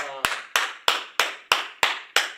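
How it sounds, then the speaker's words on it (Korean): A church youth congregation claps in unison at a Sunday service, seven sharp, evenly spaced claps in a steady rhythm. A voice is heard briefly just before the first clap. "우리 주님께 영광의 박수 올려드립시다"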